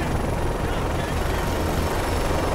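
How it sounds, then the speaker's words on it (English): Helicopter in the Call of Duty: Modern Warfare 3 campaign, a steady loud low rotor drone filling the whole stretch with faint background game noise. "Watch out for that chopper!"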